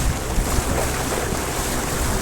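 Sea waves slapping against a boat off the Konkan coast, a constant rough wash of water churning together with strong wind buffeting the microphone, with no voices.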